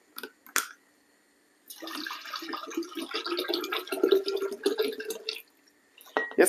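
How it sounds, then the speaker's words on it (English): Bottled water pours into a cooking pot for rice and peas with brown stew kidney beans, a steady splashing, gurgling stream lasting several seconds, set between brief clinks and taps. "Then I'm gonna add in some bottled water."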